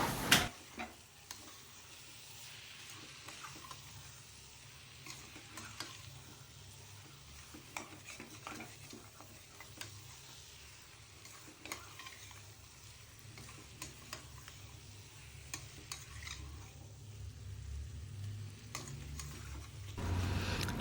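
Boneless chicken pieces sautéing in masala for biryani give a quiet, steady sizzle with occasional stirring clinks of a utensil against the pan, continuous and without voices.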